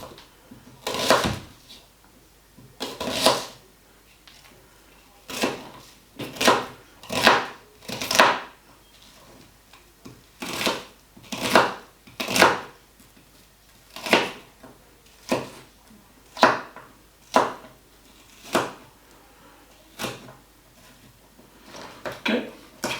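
An onion is chopped on a board with a knife in a home kitchen while making lasagne, giving a long run of sharp, close knocks in uneven bursts with short pauses between them.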